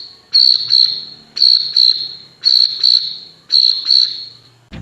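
A beatboxer imitates a cricket chirping with the voice alone: four shrill, whistle-like trilled bursts, each split into two quick pulses, repeating at an even pace, loud and close with no other sound.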